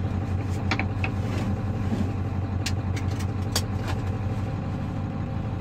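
Ford Powerstroke diesel pickup engine pulling a loaded trailer, a steady loud low drone with constant road rumble throughout and a few brief higher clicks and rattles over it.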